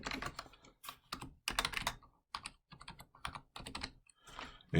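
Rapid bursts of typing on a computer keyboard while entering an expression into the Desmos calculator, close and clear, in quick clustered runs with short pauses and no talk.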